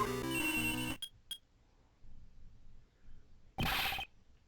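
A cell phone rings in the video game Ace Attorney Investigations 2 with a bright electronic ringtone burst, then two quick chirps. A second loud trill follows after a quiet pause.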